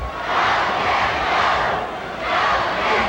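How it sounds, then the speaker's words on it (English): Wrestling arena crowd rhythmically chanting for Kevin Von Erich, a dense roar of many voices swelling in two broad waves, loud and close, with no clear talk over it. "And listen to the crowd chant for Kevin."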